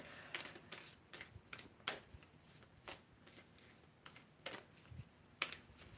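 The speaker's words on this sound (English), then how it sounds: "while I shuffle this deck" A deck of tarot cards being shuffled, with a string of quick, crisp riffling bursts and soft card slaps close by, coming in an irregular rhythm with short gaps and no voices.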